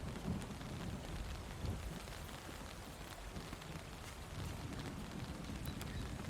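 Steady rain falls in a rainy Hogwarts-style castle grounds scene, a dense continuous hiss with a low rumbling undertone, even and fairly close throughout with no voices.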